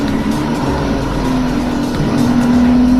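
A car tears around the wet Top Gear test track on a fast lap, its engine a loud, close, continuous roar with a tonal whine that climbs in pitch as it accelerates.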